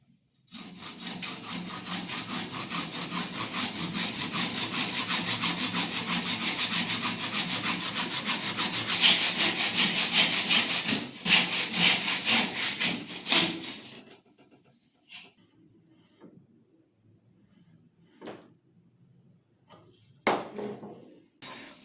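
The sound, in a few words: hand saw cutting wood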